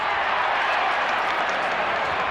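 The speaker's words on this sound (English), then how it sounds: "the roar of the crowd as the prodigal son enters the arena" A football crowd at a 1994 Footscray versus Melbourne match roars as Dougie Hawkins enters the ground, a loud, dense, unbroken wash of cheering and clapping.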